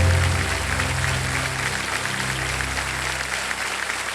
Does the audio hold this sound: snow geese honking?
no